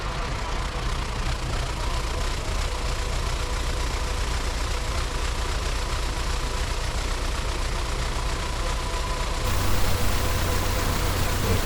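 A tractor engine idles close by, a steady droning low rumble with a faint high whine of whistling cables over it and no talking.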